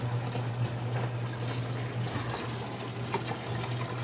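Water pours steadily into the tub of a 10 kg twin tub washing machine, a constant rushing fill with a low hum beneath it.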